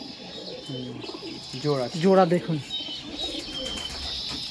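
Soft, low pigeon coos repeat in short rounds, close by, while a person talks over them.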